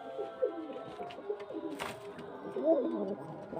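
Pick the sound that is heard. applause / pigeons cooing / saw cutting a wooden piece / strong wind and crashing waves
pigeons cooing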